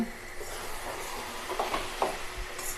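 Spinach and chickpea greens being stirred in a cooking pan: soft, irregular scraping and light clicks over a low, steady sizzle, fairly faint and close, with no talking.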